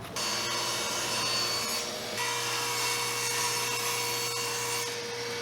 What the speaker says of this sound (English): Now here at the table saw, we'll just measure from this one side over to the line, get that measurement, set the fence, cut that off